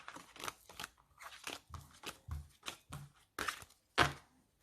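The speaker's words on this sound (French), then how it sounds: "Permettez-moi de ranger mes cartes" Oracle cards being gathered and put away by hand, a run of close crisp shuffling, sliding and tapping strokes in quick irregular bursts with no talk.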